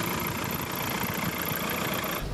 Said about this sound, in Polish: Wszystkie silniki TDI-PD, czyli te na pompowtryskach, dosyć głośno pracują na wolnych obrotach.